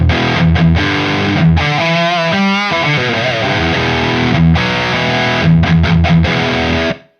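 Ibanez seven-string electric guitar through a high-gain Soldano SLO2 amp in overdrive mode, no pedal, chugs heavy palm-muted riffs with brief stops and ringing bends, loud and up front with no talking.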